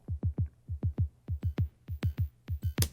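A synth bass with an LFO on its volume level, pulsing in quick groups of two and three low throbbing hits that swell and cut off rhythmically, close and dry, ending on a brighter burst.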